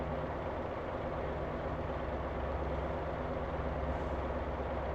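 A semi truck engine in the Motor Town driving game produces a steady, low, droning rumble that holds even and continuous throughout, with no speech.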